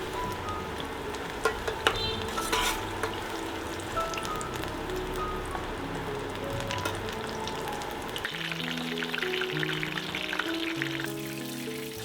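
Squid pieces frying in hot oil, a steady close crackle and sizzle with occasional louder pops and a brief stirring or clinking sound, continuing evenly without any talk.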